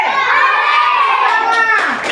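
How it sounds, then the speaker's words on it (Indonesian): A class of second-grade children in an Indonesian classroom shout hooray together in one loud, sustained chorus of young voices, rising and then tailing off. "Teriak hore. Sekali lagi, hore!"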